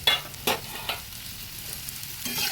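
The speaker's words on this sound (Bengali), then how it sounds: "নুন আর হলুদ দিয়ে আলুটা ভেজে নিচ্ছি" Potatoes fry in a pan with salt and turmeric, a close, moderately loud sizzle broken by a few sharp stirring scrapes at the start and a rustle near the end, with no speech.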